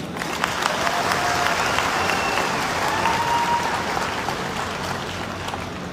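Sustained audience applause at a live business event, dense and even clapping throughout at a steady level, with faint crowd murmur underneath.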